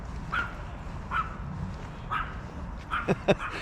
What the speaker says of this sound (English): I'm being shouted at by a little dog, a little wolf who's having a right old shout at me, and a border terrier from the looks of it.